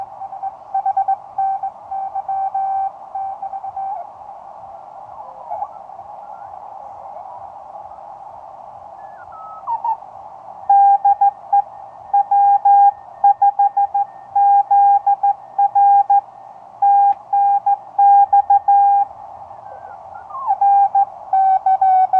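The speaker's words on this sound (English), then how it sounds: "It's a little bit touchy to tune, but you can hear the stability of the VXO is actually pretty good." Morse code and other signals tuned in on a homemade direct conversion VXO radio receiver: steady beeping carrier tones keyed in irregular bursts over a constant band of hiss, with occasional whistling sweeps as the tuning shifts.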